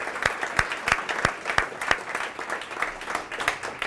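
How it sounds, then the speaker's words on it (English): Sparse clapping from a small audience at a tech meetup, a few distinct, evenly spaced claps ringing out alone with a light murmur beneath. "Can we give them another round of applause"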